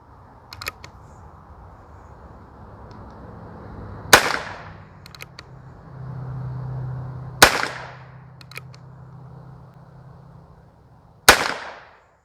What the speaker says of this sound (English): let's put a few downrange with the carbine version now of the Rough Rider